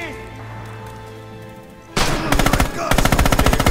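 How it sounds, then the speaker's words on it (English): Rapid bursts of gunfire from the Stalingrad-set video game Red Orchestra 2 erupt suddenly after a quieter stretch, loud and close, with repeated automatic volleys stacking on each other. "I got shot. Someone shot me."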